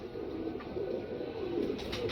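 Soft, steady cooing from a loft of bred pigeons, close and continuous but fairly quiet, with no talking.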